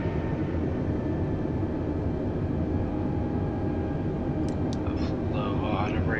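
An airliner in Microsoft Flight Simulator on final approach to Runway 30 Left with flaps full, giving a steady, loud engine drone throughout. A few faint chirps come in near the end.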